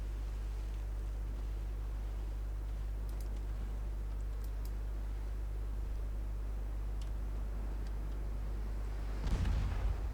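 Single heavy naval gun blast booms out near the end of a warship battle video game set in 1895, after a long stretch of steady low engine hum.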